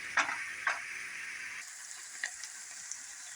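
Onions for a patty melt sizzle steadily in a pan as they begin caramelizing, a constant broadband hiss with a few brief crackling pops near the start, close and fairly quiet.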